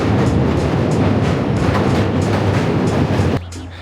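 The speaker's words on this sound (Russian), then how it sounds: "Как обещал, сейчас над нами поедет электричка." A loud, continuous rumble and rattle of an elevated commuter train passing close overhead in DUMBO, New York, with rolling clatter that drops off abruptly near the end.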